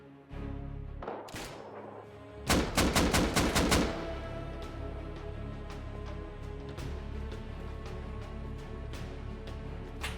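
Gunfire in the video game Rust during a snowy base raid: a rapid burst of shots fired from a hillside into a compound, followed by scattered single shots over a steady ambient bed.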